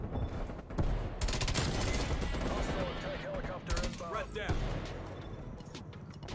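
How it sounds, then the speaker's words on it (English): Rapid gunfire bursts from Call of Duty: Black Ops multiplayer Hardpoint mode, including FFAR 1 rifle fire, crackle over a busy game mix, with voices talking on top through most of the clip. "Stop shooting me."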